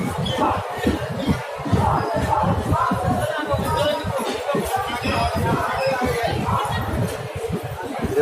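A packed passenger carriage on the Hoshiarpur Express, filled with overlapping murmuring voices and shuffling movement, a close, steady hubbub throughout.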